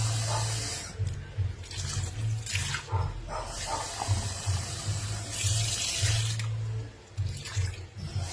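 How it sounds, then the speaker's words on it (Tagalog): Water running from a tap into a container while preparing pork-flavoured instant noodles, a steady hissing splash that wavers and surges, with a low tonal hum underneath, close by and alone without talk. "lalagyan ko siya ng tubig."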